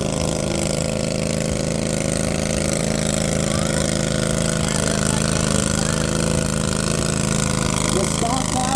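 Kohler engine on a stock-class lawn and garden pulling tractor at an LSGTPA tractor pull, running steadily with a low, throaty, continuous rumble throughout, loud and close, with voices faintly audible underneath.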